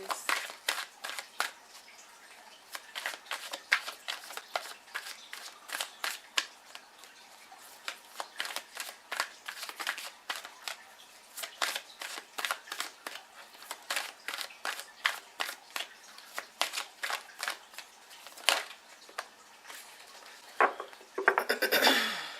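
Tarot cards are shuffled and drawn in a quiet room, producing repeated crisp riffles, flicks and soft slaps in irregular bursts that stay close and moderately faint, without speech.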